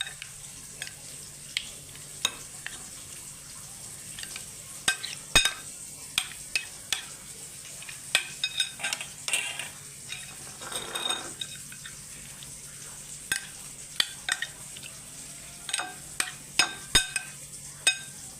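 Rohu fish pieces being mixed by hand with drained yogurt: soft wet squelches and irregular sticky taps in quick bursts, close and fairly quiet, with no talk.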